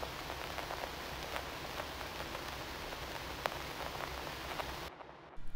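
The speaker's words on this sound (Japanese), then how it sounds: "ローファイヒップホップ特有のねレコードのプツプツ音みたいなのを演出" A lo-fi vinyl record crackle effect, the kind used in lo-fi hip hop, gives a faint, continuous bed of soft popping and hiss that cuts out abruptly near the end.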